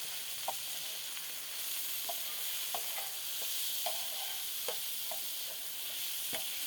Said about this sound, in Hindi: मिक्स करेंगे अच्छी तरह से मसालों को।